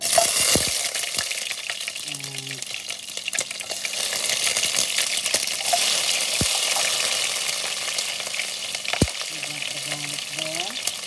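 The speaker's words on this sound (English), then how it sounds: "we are going to saute our garlic" Garlic sautéing in a pan, a continuous crackling sizzle with scattered sharp pops and occasional spatula taps, a faint voice now and then.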